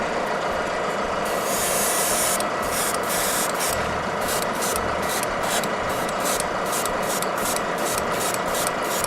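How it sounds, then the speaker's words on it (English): An airbrush sprays paint onto a 3D printed barrier piece, a loud steady hiss of air and paint held close throughout, pulsing in short rhythmic bursts toward the end, with no talk. "Actually, kind of mix these in the airbrush together too."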